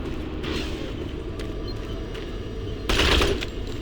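Bursts of rapid gunfire in the video game Doom 3 over a low rumbling background, with one louder volley near the end.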